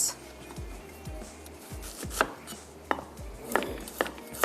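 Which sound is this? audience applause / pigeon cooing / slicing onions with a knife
slicing onions with a knife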